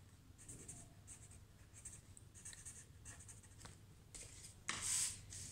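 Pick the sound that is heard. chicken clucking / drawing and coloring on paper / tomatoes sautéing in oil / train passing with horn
drawing and coloring on paper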